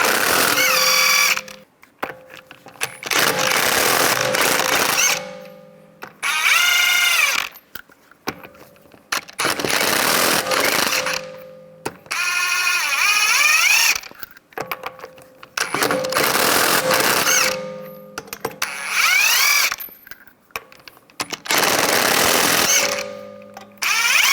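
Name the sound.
removing wheel lug nuts with a 19mm socket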